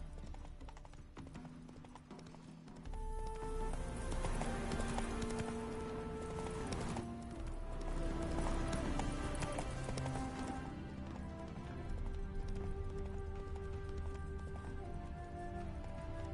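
Steady rhythmic horse hoofbeats clip-clopping in the video game The Witcher 3 beneath a continuous musical score, with an occasional snort, moderately loud and close.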